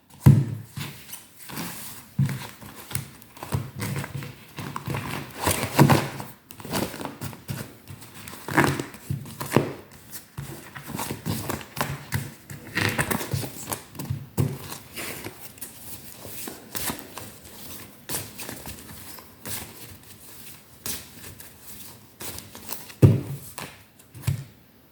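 Playing cards shuffled by hand for a sentimental guidance card reading, giving a close, continuous run of riffling, tapping and soft slaps with brief louder snaps and no talking.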